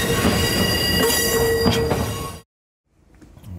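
A train rolls past loudly with squealing wheels and rumbling cars, then cuts off abruptly to silence before faint noise returns.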